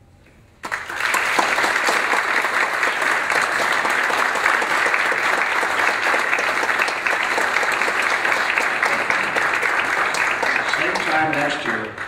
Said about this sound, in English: I think the audience gets an applause from the panel.